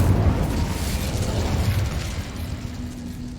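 An Incendio fire spell is cast in Hogwarts Legacy, giving a loud, sustained whooshing roar of flame and rumbling burst that slowly fades over a few seconds, with no speech.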